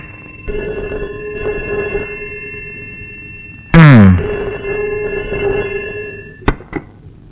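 A telephone rings loudly with sustained, steady tones, broken midway by a brief sweeping sound, and a couple of sharp clicks come near the end.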